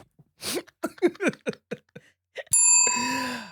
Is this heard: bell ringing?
yes